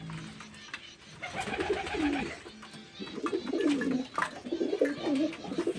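Pet pigeons coo in a series of low, throaty, rolling calls repeated across the span, close by and moderately loud, with faint background noise.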